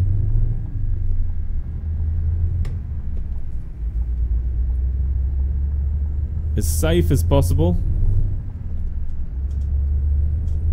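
A 2017 Scania S730 truck in Euro Truck Simulator 2 creeps along past bushes with a low, steady engine rumble, a brief hiss midway, and someone talking over it.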